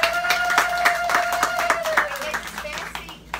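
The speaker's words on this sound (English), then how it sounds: "round of applause, round of applause" A small group claps in a quick, even rhythm for a few seconds, close by, with a voice and a sustained tone underneath, fading at the end.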